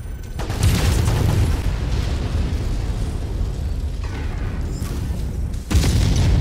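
Missile explosions in MechWarrior 5: a continuous loud rumbling roar of blasts, with a fresh heavy impact bursting in near the end, no voices.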